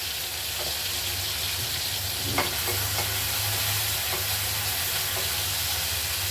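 Tomato cooks down in hot oil with curry leaves in a pan, a steady crackling sizzle with a few soft stirring clicks and knocks, no speech.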